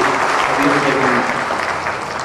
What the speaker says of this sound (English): a generous round of applause